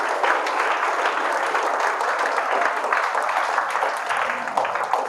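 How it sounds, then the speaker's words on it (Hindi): An audience applauds at the launch of an entrepreneurship and leadership foundation, a dense, steady clapping that holds at an even level for about five seconds, with no voices. "फिर एक बार तालियां सुफियान सर और उनके माता जी के लिए"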